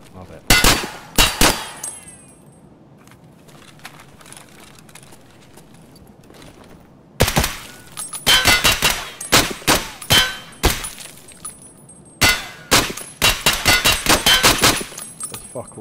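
Close, loud bursts of automatic gunfire from a weapon in Escape from Tarkov, several rapid volleys separated by quieter pauses, with sharp metallic clinks of casings between shots.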